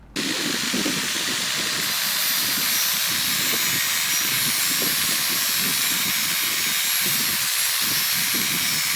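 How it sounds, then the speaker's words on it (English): An angle grinder sharpens a lawn mower blade held on a table, giving a steady, loud, continuous roar and hiss with a rough grinding texture. It runs without pause for the whole stretch, with no talk. "I've got the angle grinder in one hand and the blade in the other resting on the table"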